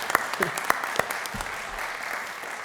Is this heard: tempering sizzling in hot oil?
no